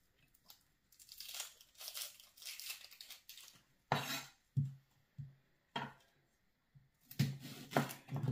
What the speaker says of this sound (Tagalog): Siyempre, hiwain natin ang ating sibuyas na panggisa para masarap.